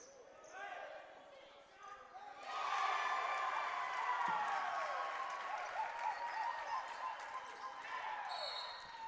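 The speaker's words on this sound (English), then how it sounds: "All you need to hear is a crowd on that one" At a high school basketball game between Suburban and Community, a gym crowd's cheering surges loudly and holds as a sustained roar. Ball bounces, shoe squeaks and shouting voices mix in underneath.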